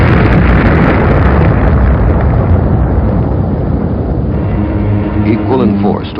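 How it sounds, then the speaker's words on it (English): A space object streaking into Earth's atmosphere explodes in a huge, roaring blast, a loud wall of broadband rumble that slowly decays into a long trailing roar. "it broke into our atmosphere, and then came the explosion."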